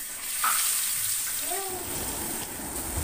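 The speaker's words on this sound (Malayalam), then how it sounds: "ബാക്കിയിരിക്കുന്ന എണ്ണയിലേക്ക് ഇനിയുള്ള മീൻ കൂട്ടിയിട്ട് നമുക്ക് ഫ്രൈ ചെയ്തെടുക്കണം" Fish frying in hot oil, a steady crackling sizzle close by with a few soft stirring clinks, holding at an even level throughout with no talking.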